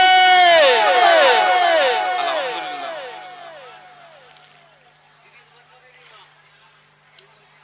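A large crowd at an outdoor Islamic sermon gathering answers a takbir call, many voices chanting together loudly and close, then fading into quieter murmuring.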